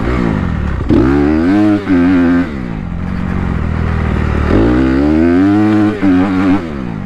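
A fuel-injected 250 motorcycle rides along with a steady, loud engine drone, its pitch rising and falling through two clear surges of revving between stretches of cruising.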